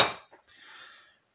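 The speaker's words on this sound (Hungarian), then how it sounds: "A tányért arrébb helyezem." A plate is moved aside on a kitchen counter while a chicken paprikash with sour cream is being made, giving one sharp ceramic clink followed by a brief scrape and a soft sliding rub.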